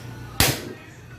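A gas stove burner ignites with a sudden whoosh of flame under a pot of water for shrimp sinigang, one short burst that fades within a second in a quiet home kitchen.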